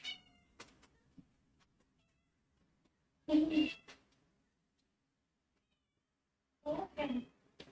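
A pet cat meows in two clear bursts separated by silence, close and fairly loud, with a woman's brief soft speech heard near the start.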